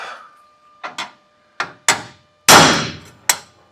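A hammer strikes straight steel stock being set into a 1937 Lincoln Zephyr chassis, six sharp metallic blows at uneven intervals, close and loud, one especially heavy ringing hit near the end.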